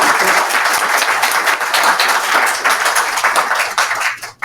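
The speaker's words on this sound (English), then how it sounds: "we of course thank all our panelists and give them another warm applause here" A conference audience at an ICUC session gives the panelists a warm round of applause, dense and sustained clapping that fades out in the final moment.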